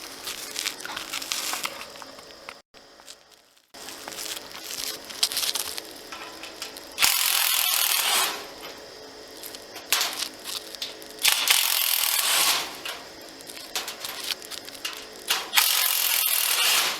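A ratcheting wrench clicks and rasps while loosening nuts and bolts on a metal chimney top cover, with bursts of harsher metallic scraping, close and moderately loud.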